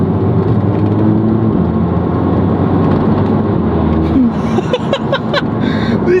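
An Audi TT with a DSG gearbox revs loudly up close, its engine and stock exhaust droning steadily, with brief pops and a short burst of talk toward the end.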